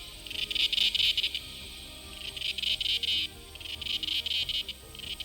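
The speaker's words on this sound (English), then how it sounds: "many also say that cicadas make a pleasant sound that envelops you from all sides" Cicadas sing in loud, pulsing bursts of buzzing that swell and fade in repeated waves and envelop the scene with no voices.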